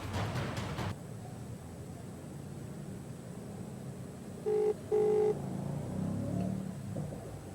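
Ringback tone of an outgoing phone call going unanswered, two short tone bursts heard faintly over steady background hiss and hum.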